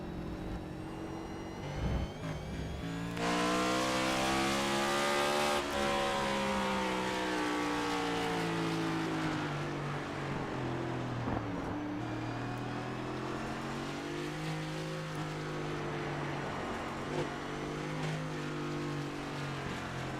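Onboard engine roar of a NASCAR Cup race car in the iRacing sim on the Charlotte Roval, loud and sustained, with pitch rising and falling through shifts, braking and acceleration.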